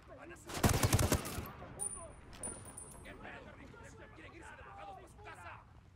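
A dense burst of rapid automatic gunfire in Ghost Recon Wildlands lasts just under a second, loud and close. Scattered distant shots and faint voices follow under a busy background.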